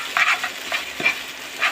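Eggs and potatoes stirred in a pan for a breakfast ludus: a few short, scraping strokes and soft clatters of a utensil with faint sizzling between them, close by and fairly quiet.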